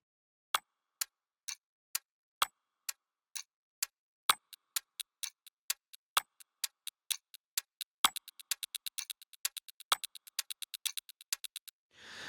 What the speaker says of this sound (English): let's check out these ticks and tocks